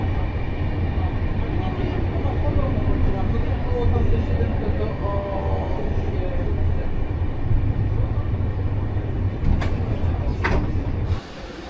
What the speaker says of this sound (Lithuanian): Traukinys atvažiavo į Poznanę